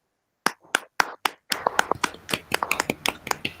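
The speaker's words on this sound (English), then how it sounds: "offer a big round of applause to Professor Vasi" An online conference audience claps for a professor over open microphones: a few separate claps at first, then overlapping, irregular clapping from several people, fairly close and crisp.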